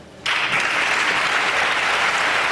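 Sustained applause breaks out in the Spanish parliament, a dense, loud, steady clapping from a large crowd after a near-silent start, cheering the new prime minister Pedro Sánchez.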